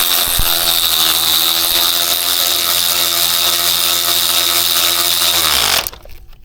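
Power tool driving and tightening the AC compressor mounting bolts on a 2007–2012 Acura MDX, a loud steady whir running continuously for nearly six seconds before it abruptly winds down and stops.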